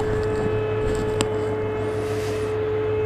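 A steady, loud droning hum from an air start unit at DFW Airport at night, a constant tonal whine with broadband rush and no talking.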